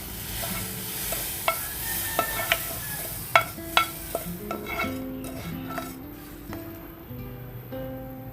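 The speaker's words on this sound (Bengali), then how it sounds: "হালকাভাবে নেড়ে চেড়ে আমি 1 থেকে 2 মিনিট এটাকে রান্না করব।" Fried vermicelli cooking in milk with fried nuts and raisins, stirred gently so a spoon clinks and scrapes against the pot in scattered taps over a soft, low bubbling simmer, close and quiet.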